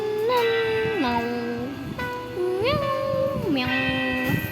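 Several drawn-out meows rise and fall in pitch, coming close and clear one after another with short gaps between them and no talking.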